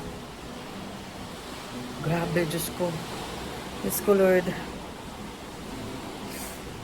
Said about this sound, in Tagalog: malakas yung hangin, malakas yung ulan.